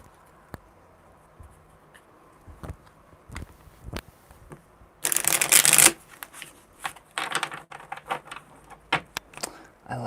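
A deck of tarot cards being shuffled up close, with soft riffling clicks and flutters in irregular bursts and one loud dense riffle partway through, heard alone without talk.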